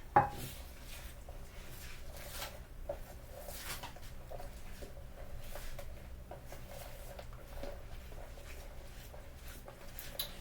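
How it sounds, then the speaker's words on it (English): A spoon stirs pecan pie filling with butter in a bowl, making soft repeated scrapes and light taps at a steady rhythm, close but quiet. "Make sure you stir it really good, though, to blend all of those flavors."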